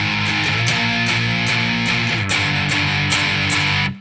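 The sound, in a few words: distorted electric guitar playing end of second chorus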